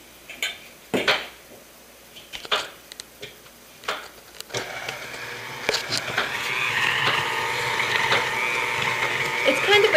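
Apple cake batter being mixed in a bowl, first as a few separate scraping knocks and clinks, then as steady, continuous stirring and scraping that gets louder through the second half.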